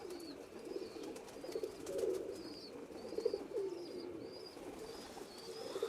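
A female pigeon among a Giribaz pigeon collection, low throaty cooing rising and falling in repeated phrases, fairly quiet and close, with small high chirps scattered over the steady murmur.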